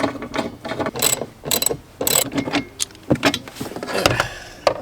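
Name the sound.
ratchet removing screws during car repair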